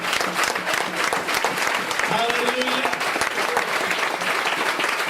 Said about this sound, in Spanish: Fuerte ese aplauso de alabanza para el Señor